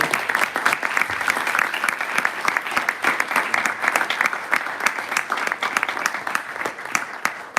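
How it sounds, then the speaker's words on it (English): Applause from an audience at a tech meetup event, dense sustained clapping filling the room at an even level throughout. "Another round of applause"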